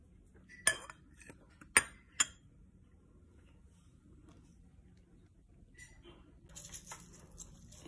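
Mango flavoring stirred into a bowl with a spoon, making a few sharp clinks against the bowl that are followed by quieter scraping and tapping, close up with no talk.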